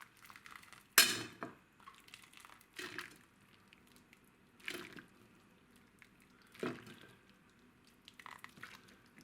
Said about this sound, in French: nous allons mettre une portion de potée dans l'assiette